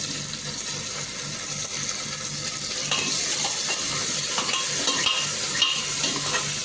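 Half a tomato frying in a pan for dhaba-style dal tadka, a steady soft sizzle with faint stirring scrapes, fairly close and continuous with no talking.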